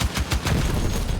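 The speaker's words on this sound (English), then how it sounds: "Provided you shoot the correct vehicle, you have to shoot the correct jeep." Rapid automatic gunfire in Battlefield 6 hits a jeep, a fast burst of sharp, evenly spaced shots that blurs into a dense, loud rattle.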